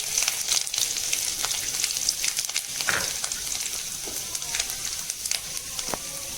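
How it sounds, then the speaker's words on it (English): Chopped ginger and garlic frying over a low flame in a pan for honey chilli paneer; a steady close sizzle with scattered crackles and pops, no talk. "After that, add the chopped ginger and garlic."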